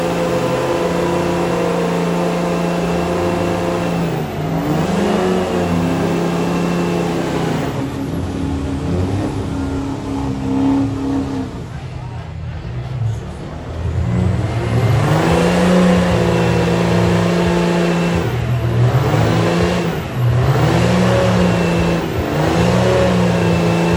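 Big Cummins diesel outlaw monster truck engine revving hard in a tug-of-war pull against a Duramax, repeated loud surging revs and drops with a brief lull near the middle, close and dominant with no talk.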